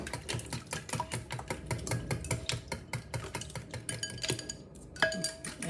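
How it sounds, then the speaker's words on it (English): Rapid whisking of lemon and orange juice in a bowl for a Jamaican rum cake, a busy run of quick, close clinking and scraping taps with a brief sharper tone near the end, no talking. "So I'm gonna whisk it"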